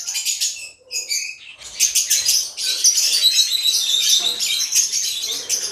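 Caged African lovebirds on a large home farm chirp in a few sharp calls, then build into a continuous, high-pitched chattering chorus close at hand.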